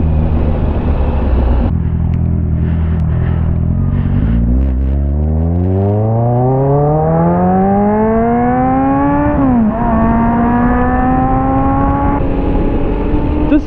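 A motorcycle engine runs close by, a low steady idle that climbs into a long rising rev through gear shifts, loud and continuous with no voices.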